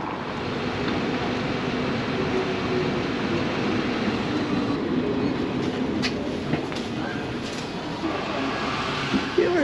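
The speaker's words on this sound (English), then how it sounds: "Tram. Tram." An Edinburgh tram running along a city road, a steady broadband rumble and rolling rail noise holding loud and even throughout, with faint squeals and a few brief clanks near the end.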